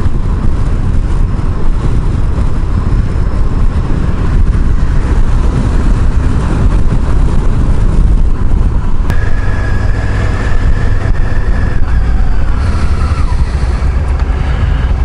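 A motorcycle with a damaged gearbox rides on, a continuous loud engine rumble mixed with heavy wind buffeting, with a faint tonal whine joining partway through.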